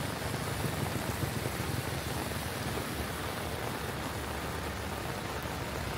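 Rain falls steadily over the streets of Taunggyi city, a dense, even hiss that holds for the whole stretch, with no talking or other clear sounds above it.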